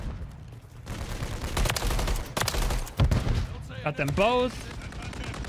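Rapid bursts of LMG fire in Call of Duty MW3 crack out repeatedly at close range, with a player speaking briefly amid the shooting.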